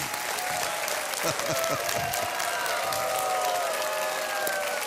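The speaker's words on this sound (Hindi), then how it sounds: "एक बार फिर तालियां" A studio audience on a televised Hindi quiz show bursts into dense, continuous applause with some cheering, steady and loud across the whole stretch, while a voice briefly carries underneath.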